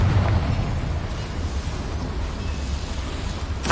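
A fiery Confringo spell explodes in the game Hogwarts Legacy, a loud rumbling burst that rolls on as a continuous roar with heavy low-end weight for several seconds.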